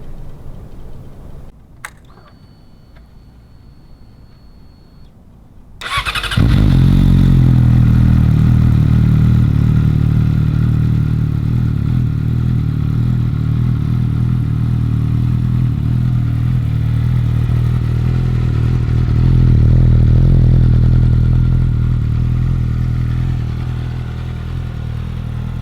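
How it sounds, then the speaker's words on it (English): A heavily modified Yamaha R6 sport bike starts after a few seconds of near silence with faint clicks. It then runs loud and close with a steady, rough idle, swelling slightly in a brief rev before easing off. "We're gonna get some revs and let you guys hear exactly what his bike sounds like."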